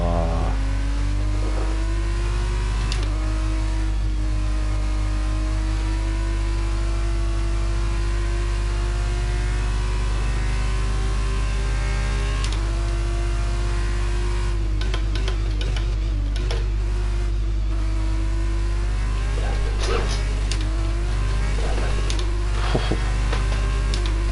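A Formula 1 car engine in F1 22 screams continuously at high revs, pitch rising and falling with throttle and gear changes, loud and steady throughout with no talk.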